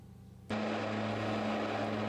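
At Lukla airport in the Everest region, a propeller airplane's engines roar up abruptly to full power for a downhill takeoff, a loud, steady droning hum with a strong low tone that holds without pause.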